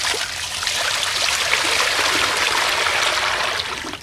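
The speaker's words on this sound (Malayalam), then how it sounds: "നമുക്ക് വെള്ളം ഒഴിച്ച് കൊടുക്കാം" Water is poured into a guppy tank as a continuous splashing gush close by. It holds steady for about four seconds before tapering off at the end.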